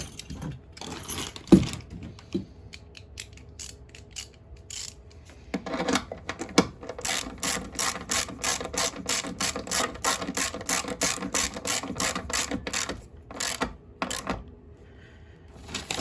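A bolt with a washer is screwed into the pulley of a Toro TimeMaster commercial mower with an upgrade kit, making a close, rapid run of ratcheting clicks after a few scattered metallic knocks.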